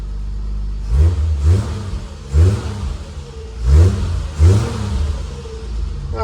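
A 1962 Triumph Vitesse Sports 6 engine runs close by, blipped in five short revving bursts that rise and fall over a steady low idle.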